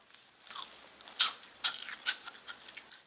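Faint, crisp crunches come in a short series, several distinct bites and chews of a sugared fried bread crouton, close up and quiet.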